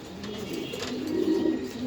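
Pigeons at a pigeon farm coo softly and continuously, their low, rolling calls overlapping nearby with no talk.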